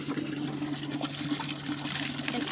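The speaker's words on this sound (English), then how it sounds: "And then now just pull the gate valve." A homemade toilet flushes after its gate valve is pulled, giving a continuous rushing, gurgling gush of water that holds steady and close for the whole short stretch.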